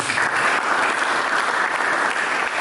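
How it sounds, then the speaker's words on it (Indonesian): A church congregation clapping at an Indonesian sermon, a loud, dense burst of many hands applauding together in a steady, even roar that fills the whole stretch with no voices on top. "Katakan dengan tepuk tangan."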